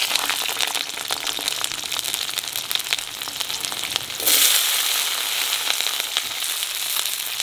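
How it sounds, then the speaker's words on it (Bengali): Garlic and green chilies sizzling in hot oil, a steady, dense crackle that flares louder partway through as the pan hisses more strongly, close up with no talking. "তেলের পর দিয়ে দেবো রসুন আর কাঁচা লঙ্কা।"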